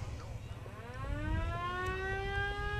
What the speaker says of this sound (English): I want you to go in there and fire off the siren for us here.